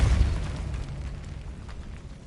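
Fire and blast spells are cast in a Harry Potter video game: a loud, low explosive boom hits at once, then rumbles and fades over two seconds, with faint crackling in the tail and no speech.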